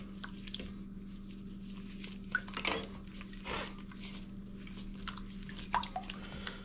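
A utensil breaks up clumps in a wheat sourdough bread dough mixture, with sporadic clinks and soft scraping against the bowl over a quiet steady hum.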